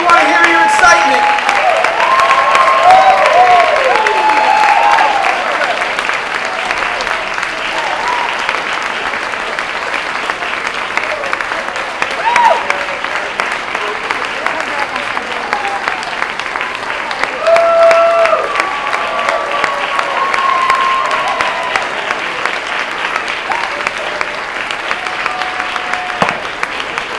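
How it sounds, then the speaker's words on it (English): Applause from an audience at a senior citizens' talent show in Chattanooga goes on for a long, steady stretch, with dense clapping and a host's amplified voice speaking over it at times. "Big round of applause for all of our contestants."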